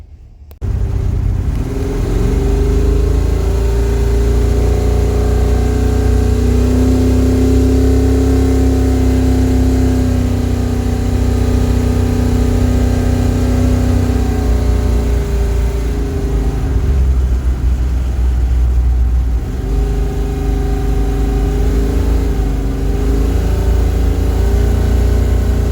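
A car engine runs steadily and loudly while driving home after a hydroboost fix, with a continuous mid-range drone and mild shifts in pitch as it accelerates, and no voices over it.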